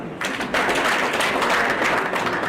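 Audience applause at a political gathering, a dense wash of clapping hands that swells after a brief start and holds steady and loud throughout.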